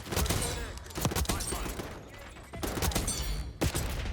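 Rapid bursts of Tanto .22 gunfire from Black Ops 6 crackle in several quick volleys with short gaps between them, loud and close.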